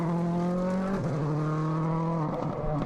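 Mikko Hirvonen's rally car on a damp stage at the 2009 WRC Ireland, its engine droning loud and close, with the pitch dropping at gear changes.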